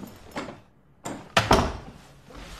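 A door is swung shut in a scene from a horror film, giving a soft first bump followed by a couple of louder wooden thuds and a brief rattle, close by and with no speech.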